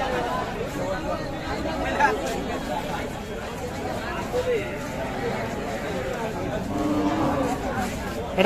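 Cattle low amid the chatter of a crowd at a livestock market in Kaharol where cows with calves are being sold, with several people talking nearby over a busy outdoor murmur.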